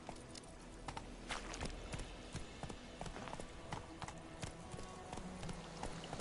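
Video game horse named Roach galloping, a steady run of hoof clip-clops close by with faint background noise.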